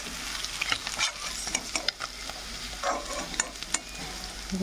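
Tilapia or khoira fish frying in a pan of oil, a continuous close sizzle broken by scraping stirs and turning clatters at irregular intervals, no talking over it.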